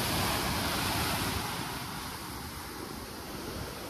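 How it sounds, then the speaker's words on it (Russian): Storm waves on the sea at Balaklava, Crimea, roll toward the beach in a continuous loud roaring wash, with gusty wind buffeting the microphone and no voices. "еще и какая волна идет сюда"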